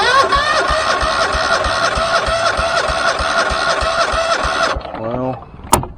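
A Ferris ProCut Z 61-inch zero-turn mower engine, with a thrown rod and almost no oil, runs with a loud, rapid mechanical clatter for several seconds before cutting out abruptly and winding down, followed by a brief sharp click.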